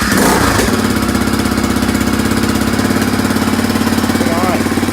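Suzuki DR350 dirt bike with a new shift drum and Wiseco piston coughs to life with the choke on, then settles into a loud, steady, close thumping idle.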